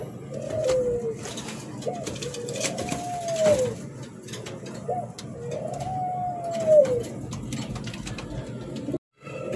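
A pair of red Lahori running pigeons coo repeatedly at close range, soft rising-and-falling calls roughly every two to three seconds over a steady low background hum.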